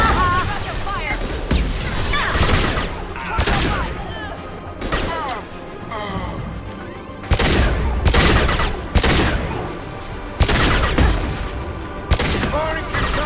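Rapid bursts of gunfire in a video game, with repeated loud, sharp volleys crackling in quick succession and brief pauses between clusters, under occasional voices.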